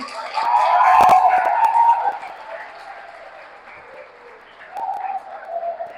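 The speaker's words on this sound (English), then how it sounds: "A huge round of applause to them." Audience applause at a college event in Mumbai, a burst of clapping swelling for about two seconds, then thinning into a quieter background before a second, smaller wave of clapping near the end.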